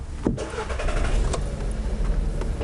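A car engine cranks and catches right at the start, then settles into a steady, close idle that carries on alone with no talk, heard during a check of the EPC warning light.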